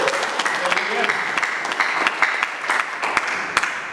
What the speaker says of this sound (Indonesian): Berikan sorak-sorai Tuhan.